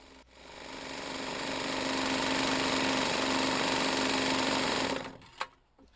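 A homemade air compressor pumps air into a 2-liter pop bottle tank, a close, steady mechanical chugging hum that runs for about five seconds before stopping, with a brief knock afterward.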